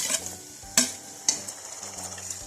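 Tomato dropped into hot oil with browned onion, ginger-garlic paste and spices, giving a steady sizzle and fry, with two sharp clatters of a spoon or pan partway through, close and moderately loud.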